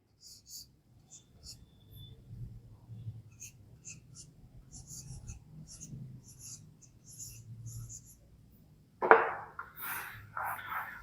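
Marker or chalk writing during an organic chemistry class makes faint, intermittent scratchy strokes that stay quiet and close, followed by a sudden louder voice near the end.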